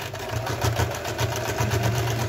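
A sewing machine running steadily while stitching a band around a trouser waist, rapid rhythmic mechanical whirring and clatter, close and continuous.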